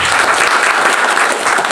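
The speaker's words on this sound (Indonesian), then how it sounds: "Beri tepuk tangan yang beri Tuhan." Congregation clapping at a Christmas church service in a Jakarta office building, a dense, steady burst of applause filling the room throughout the short moment.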